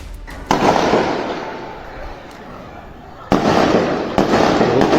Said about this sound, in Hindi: सुरक्षा बलों को हवाई फायरिंग तक करनी पड़ी